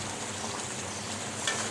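Goat meat fried down with spices and onion sizzles steadily in a pan, a close, even hiss with a small stirring bump near the end.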